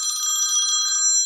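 A telephone rings in an office setting, a single bright metallic trill lasting about a second before cutting off, loud and alone.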